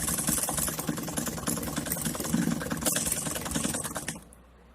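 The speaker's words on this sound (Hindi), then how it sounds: "राधा रानी के लहंगे और कान्हा जी की धोती के दोनों पार्ट्स को मैंने इस तरह से सिल लिया है" A sewing machine stitches together the parts of a small Radha Krishna doll outfit, a lehenga and a dhoti, running steadily with a fast mechanical whir for about four seconds before stopping abruptly.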